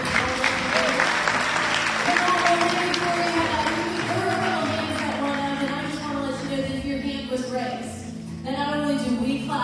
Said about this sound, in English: let's give Jesus a great hand.